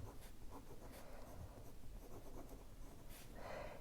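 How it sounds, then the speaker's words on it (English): Soft scratchy fountain pen nib strokes across paper, a steady close-up rustle of writing with small bursts as letters form, no voices. "This nib glides extremely smoothly over this paper."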